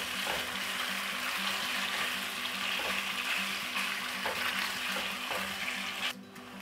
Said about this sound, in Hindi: चिकन को 4 से 5 मिनट हो चुके हैं, बस 1 मिनट इसको ज़रा और मज़ीद भून लेंगे।